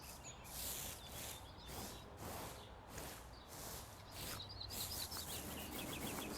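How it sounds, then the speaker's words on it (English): Birds chirp in a soft ambient scene from the cozy video game Hozy, with repeated bright tweets and chirps over a gentle wash of background texture and faint rustling, no voices. "Everything's got a sound that's like a really beautiful sound. Like there's birds."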